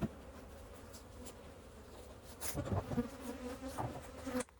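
Honeybees swarming around an open hive during a fall bee-yard inspection, a soft continuous buzz with individual bees droning close past the microphone, no speech.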